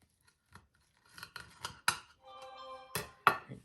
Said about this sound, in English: I am going to cut now the roast. I actually prefer using a serrated knife.